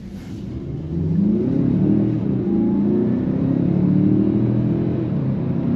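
A 2024 Mazda CX-5 accelerates steadily in normal drive mode, giving a continuous, moderately loud engine rumble and rising drone heard from inside the cabin, with no talk over it.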